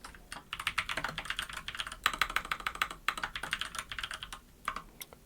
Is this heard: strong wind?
no